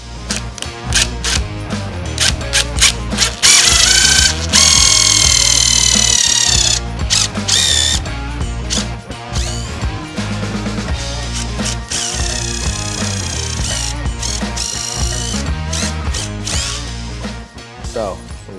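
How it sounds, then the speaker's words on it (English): A power drill bores pocket holes into wood while a broken couch leg is repaired. The motor whines loudly and close up, rising and falling in repeated runs with brief pauses. "to pre-drill the holes."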